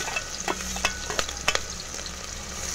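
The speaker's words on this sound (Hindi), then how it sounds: "उसको हम ब्राउन होने तक फ्राई कर लेंगे" Onions fry in hot oil in a pressure cooker, a steady close sizzle broken by scraping stirs and small crackling bursts, with no talk.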